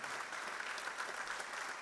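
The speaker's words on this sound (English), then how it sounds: "you can hear the applause" Students in an academic audience applaud, giving a faint, distant wash of steady clapping with no distinct individual claps.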